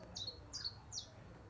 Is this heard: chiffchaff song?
yes